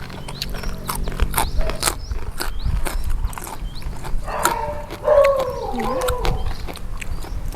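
Dogs in a village neighbourhood bark and yelp in scattered bursts, then break into a rising, wavering howl toward the end. They sound at moderate distance over outdoor clatter and background noise.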